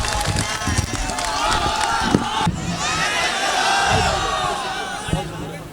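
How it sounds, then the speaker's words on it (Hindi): At a mushaira, a large crowd in Bhatuwam roars and claps to welcome the poet Imran Pratapgarhi to the microphone, a dense, continuous wash of cheering with shouting voices mixed in. "तालियों की गूंज में इस्तकबाल की।"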